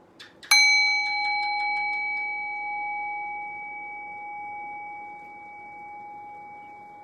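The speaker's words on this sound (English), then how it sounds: "Rest your awareness on the sound of the bell." A single struck meditation bell rings out clearly, starting with a bright metallic strike and then settling into a long, pure, steady tone that slowly fades over several seconds in a quiet room.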